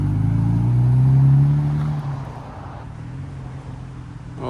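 A classic Jaguar Mark II with a straight-six engine pulling away at a countryside pub car meet, a rising engine note that peaks then fades as it moves off, leaving quieter ambient rumble.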